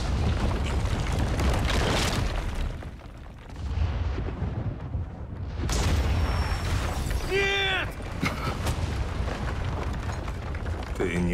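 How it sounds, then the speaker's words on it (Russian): Repeated heavy booms and rumbling blasts as a library is blown up in Quantum Break, with a brief lull midway and some squealing, crackling debris sounds afterward. "Библиотеку взрывают."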